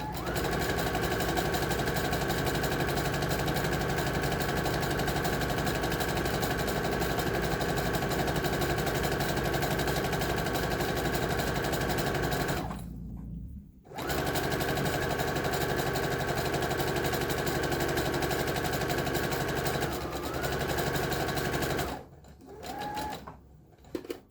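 Sewing machine stitching slowly over a fabric seam while gathering fabric for a skirt or dress, running in a steady continuous whir for long stretches with two brief pauses, close and loud with no talk.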